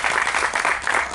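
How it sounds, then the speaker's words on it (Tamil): Short burst of dense audience clapping at a Tamil film music launch event, loud and close, filling the moment without speech. "கைத்தட்டி பாராட்டு தெரிவிப்போம்"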